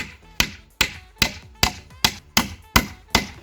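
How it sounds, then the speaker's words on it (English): Nails are hammered into a large outdoor wooden rabbit and guinea pig enclosure: eight crisp, evenly spaced strikes, one roughly every half second, close up with no talking. "now we're just carrying on and slowly nailing them all in."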